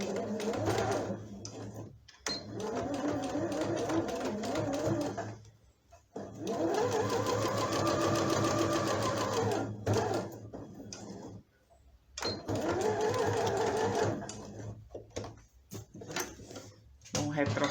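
A sewing machine stitches fabric in several bursts of rapid, steady whirring and clatter, separated by brief pauses. A voice is heard talking in between.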